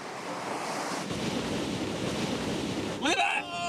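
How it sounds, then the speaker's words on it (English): Huge surf driven by Hurricane Noel crashing at Peggy's Cove, a continuous roaring wash of breaking waves and wind buffeting the microphone, with a brief higher rushing swell near the end. "Hurricane Noel hit Peggy's Cove with the biggest waves I have ever seen."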